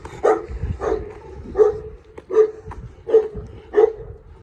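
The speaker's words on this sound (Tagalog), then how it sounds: "Malaki ng aso." A dog barks repeatedly at a steady pace, about six sharp barks close by, with short pauses between them and no talking.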